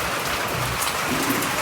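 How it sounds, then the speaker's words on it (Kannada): Heavy rain pours down steadily during a thunderstorm. The dense patter is constant and moderately loud, and a low rumble of thunder rolls beneath it. "ಮಳೆ ಯಾಕೋ ನಿಲ್ಲೋದು ಕಾಣಿಸ್ತಾ ಇಲ್ಲ."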